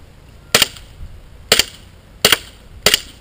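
WE Glock 17 Gen4 gas blowback airsoft pistol fired outdoors at about 10 metres in light wind: four sharp, loud cracks spaced roughly a second apart, each with a brief clattering slide snap, over quiet background.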